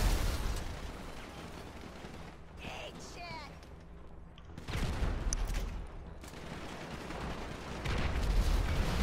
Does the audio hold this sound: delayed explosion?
yes